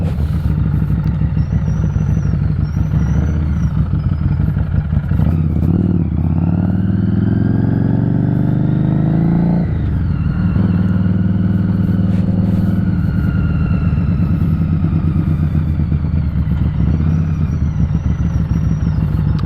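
A Harley Davidson Street 500 motorcycle rides through town at night, its engine rumbling steadily up close, with one clear surge of revs as it accelerates before settling back to an even cruise.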